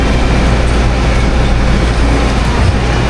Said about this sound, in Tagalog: Dito tayo sasakay ulit sa train.